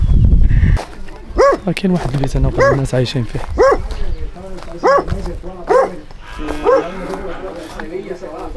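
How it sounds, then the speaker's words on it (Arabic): A dog barks repeatedly on a farm in Cuba, with sharp barks scattered through the clip under someone talking nearby, mixed with outdoor farm background. "الكلب خلعني."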